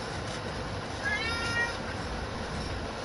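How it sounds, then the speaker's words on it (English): A house cat gives a faint drawn-out meow once or twice over steady background hum in a room. "My cat, the jerk."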